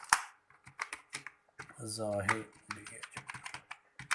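Name being typed on a computer keyboard while setting up a Windows installation on an HP Compaq machine, with quick irregular key clicks and someone speaking over them.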